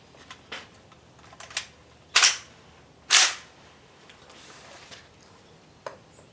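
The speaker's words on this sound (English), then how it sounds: "Cartridges are going off, but they're not ejecting." Shots from a CETME L rifle, a few sharp loud cracks spaced about a second apart among smaller clicks and mechanical taps, heard outdoors with no talking.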